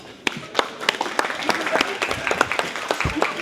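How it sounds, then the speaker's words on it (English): Wedding guests at a reception clap irregularly for the brides after a toast, with individual sharp claps building into a modest round of applause and some murmuring. "give them a round of applause"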